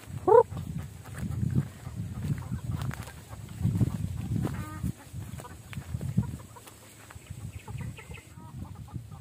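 Pet chickens on a mountain farm cluck and murmur low and steady, with a brief higher call near the start and occasional faint sounds over a constant ambient hum.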